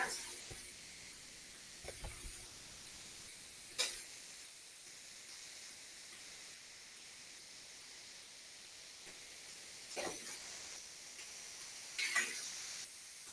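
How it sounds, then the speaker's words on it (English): Pork chops fry in a pan with a soft, steady sizzle and hiss throughout, punctuated by a few occasional clinks and scrapes of utensils, heard close but fairly quiet. "those pork chops sound good"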